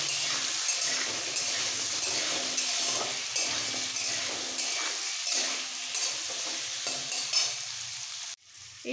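Potatoes fry in hot oil seasoned with salt and turmeric for an okra-and-potato curry, giving a steady, close sizzle with faint stirring scrapes for about eight seconds before it cuts off abruptly.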